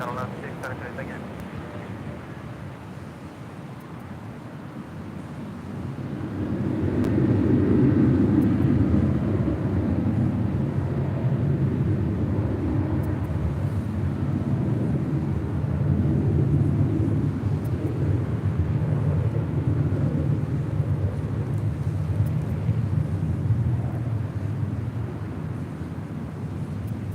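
Viva Aerobus Airbus A321neo jet at Los Angeles International Airport, a broad distant engine roar swelling after a few seconds and holding steady for about twenty seconds with wind noise, no talk.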